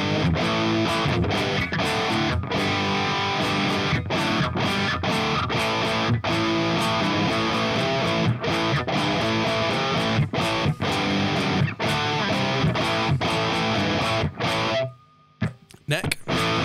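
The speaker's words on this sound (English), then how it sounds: "So here's JCM 800 Tube Screamer bridge tone." An electric guitar with humbuckers, on its bridge pickup, is played through a Marshall JCM 800 amp boosted by a Tube Screamer. It gives a dense, loud, distorted rhythm tone with choppy palm-muted stops for about fifteen seconds before cutting out.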